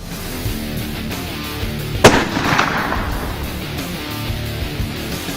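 A single rifle shot fired on a buffalo hunt at La Peregrina, one sharp loud crack over steady outdoor wind noise, followed by a fading rumble.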